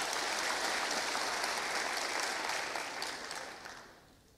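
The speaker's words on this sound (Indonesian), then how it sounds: "Mari tepuk tangan buat Tuhan Yesus." A church congregation applauds during a sermon, a broad, even wash of clapping from a crowd, fairly distant and soft, fading out toward the end.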